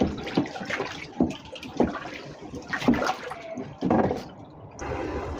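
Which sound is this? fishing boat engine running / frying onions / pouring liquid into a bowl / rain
pouring liquid into a bowl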